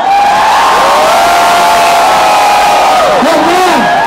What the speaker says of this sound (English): I can hear them scream.